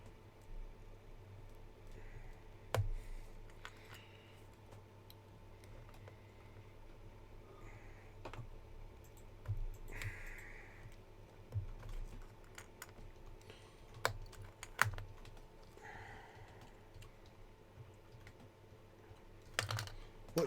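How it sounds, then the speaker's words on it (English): Computer keyboard typing comes in quiet, irregular runs of clicking keystrokes, with a few louder taps and short pauses, in a still room. "What are you typing, Mr. Typey?"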